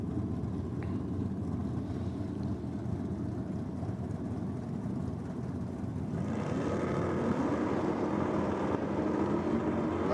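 At a championship drag race, a Holden VL Commodore and another car launch from the start line, a heavy droning engine roar that swells and rises in pitch partway through, loud and sustained.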